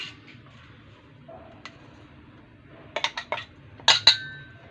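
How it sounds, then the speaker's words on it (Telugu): Barley mixture being scraped onto a plate brings light clinks and taps of a utensil against metal and dishware, a few scattered knocks followed by two brighter ringing clinks near the end, over a quiet background hum. "దీన్ని వచ్చేసి ప్లేట్లోకి తీసేసుకుందాం"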